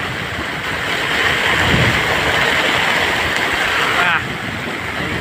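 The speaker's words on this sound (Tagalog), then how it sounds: "Lakas na ulan, hangin." Heavy rain and wind lash a small fishing boat out at sea, a loud, dense wash of downpour and gusts that holds steady, then eases slightly near the end.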